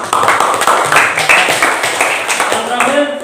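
Classroom group clapping during a student presentation, a burst of hands at close range, fairly loud, mixed with voices and chatter.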